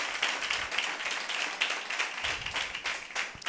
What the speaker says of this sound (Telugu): చప్పట్లు కూడా దేవుని నామానికి కనపరచండి.